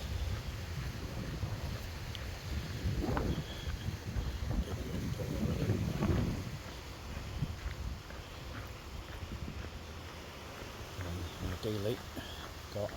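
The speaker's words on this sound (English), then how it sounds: "Windy, quite very windy" Strong wind buffets the microphone outdoors on a sunny street outside an apartment in Lanzarote, a steady low rumble with louder gusts swelling mid-clip, and a voice talks over it.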